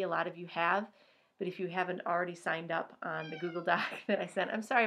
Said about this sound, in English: so apologize for the cat noises